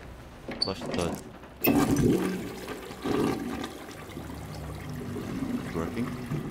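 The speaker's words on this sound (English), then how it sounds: "flush the toilet." A toilet flushing inside a haunted mansion in the horror video game Layers of Fear: a sudden rushing gush of water that swirls and trickles away, with a voice briefly talking over it.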